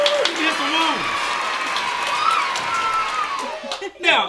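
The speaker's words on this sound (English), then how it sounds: "Round of applause, everybody." Studio audience applauding and cheering on a cooking show set, a steady wash of clapping and shouts held for several seconds, with a host's voice rising over it near the end.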